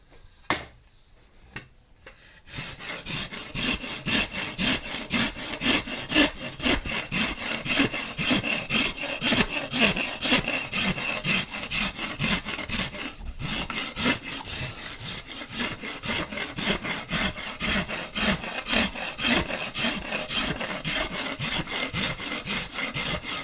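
A microplane carves a wooden guitar neck with rapid, rhythmic rasping strokes, close and loud. The scraping begins after a couple of quiet seconds and continues steadily throughout.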